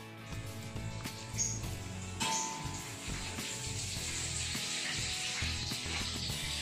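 Tofu fries in a pan with a loud, continuous sizzle and crackle, close and steady throughout, with faint kitchen clatter underneath.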